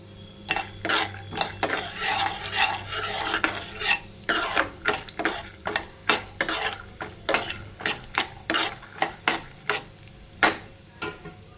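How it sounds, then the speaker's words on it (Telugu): Peanuts and tempering spices are stirred in about three tablespoons of hot oil in a pan, with a spoon repeatedly scraping and clinking against the metal in a brisk, uneven rhythm over a low, steady sizzle. "ఈ పల్లీలను పోపు దినుసులు అంతా వేసేసుకోవాలి."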